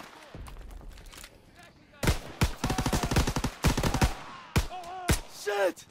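Rapid machine-gun bursts and single gunshots in Call of Duty WWII, loud and close, with dense rattling volleys after a quieter start and a voice talking in between.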